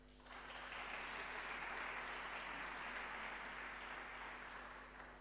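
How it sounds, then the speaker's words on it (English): At the opening ceremony of an international voice competition, an audience gives a sustained round of applause for the jury, a dense, even wash of clapping from a large hall that holds steady after a quick start. "Let's give them a round of applause."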